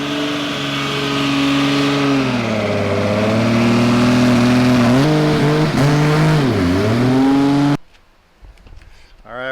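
A 2JZ-engined car drives on the road, its engine droning loud and close with smooth pitch rises and dips as it revs through gears, then cuts out abruptly near the end, leaving faint sounds.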